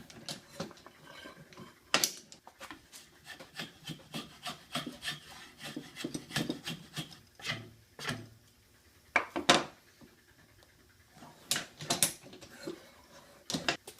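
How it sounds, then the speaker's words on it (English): Draw knife shaving a cherry and walnut wooden sword by hand, a series of quiet, irregular scraping strokes with short rasping bursts and pauses, close and alone. "using a draw blade, I shape the wooden sword to a more desirable shape"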